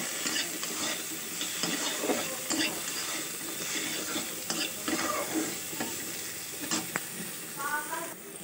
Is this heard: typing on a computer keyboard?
no